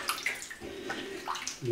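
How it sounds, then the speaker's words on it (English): Water runs from a tap into a bathroom sink being filled for a wet shave, a steady splashing rush that swells near the end, close by with no talk. "And I usually fill the sink"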